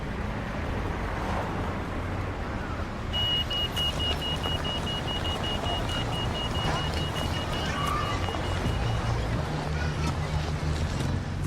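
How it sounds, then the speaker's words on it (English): Cars pass continuously beside a pedestrian crossing, a steady broadband road roar that holds throughout, with a thin high tone sounding through the middle stretch. "Wait for the lights to stop the traffic."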